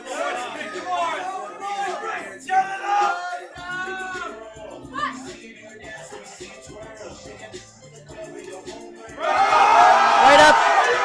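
At a USAPL powerlifting meet, the crowd shouts and whoops while announcers talk over it, and the cheering swells into a loud, sustained roar near the end.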